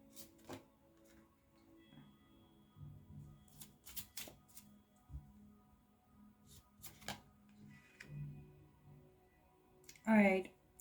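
Tarot cards being shuffled in a quiet room, soft riffling and tapping bursts scattered across the clip, ending in a brief louder flurry of shuffling.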